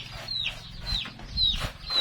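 Chickens cluck close by at a rural home, giving several quick clucks and short high calls in a loose rhythm over a low background murmur.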